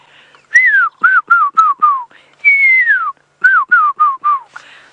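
A person whistles an imitation of an African fish eagle's call on a sunset safari drive: a series of sharp descending whistled notes, one longer sweeping note, then another quick run, close and clear.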